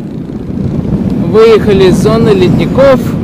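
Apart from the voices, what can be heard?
strong wind blowing on a bike ride in Iceland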